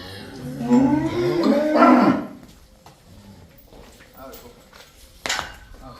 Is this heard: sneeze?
no